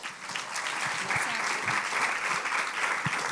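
Audience applause from a seated crowd at a French-language talk on living a fulfilling life, a dense steady clapping that holds loud and even for the whole stretch with no talk over it.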